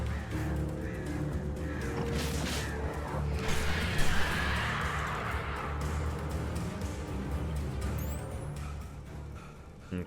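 Crows caw repeatedly in Alan Wake Remastered, harsh calls scattered over a low rumbling ambient bed, with a brief swell of noise midway and no talking.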